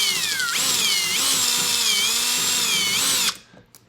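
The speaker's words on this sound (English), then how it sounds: "you take your drill bit and you just drill right through the center of that little hole" A power drill bores through a plastic tab on a dustless vacuum clip, a loud, close, high-pitched whine that rises and dips in pitch with the load for about three seconds before abruptly stopping into near silence.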